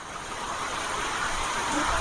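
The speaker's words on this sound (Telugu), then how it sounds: "ఇప్పుడు మొత్తం వర్షం ఫుల్ భీమత్తగా కురుస్తుంది" Heavy rain falling over Jurala village, a steady broadband hiss that swells slightly toward the end, with a faint low rumble underneath.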